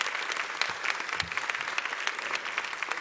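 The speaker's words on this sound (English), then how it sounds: "Actually, a round of applause for our panelists." An audience at a wealth summit applauds a panel, a steady patter of many hands clapping at moderate volume, continuous for a few seconds with nobody speaking over it.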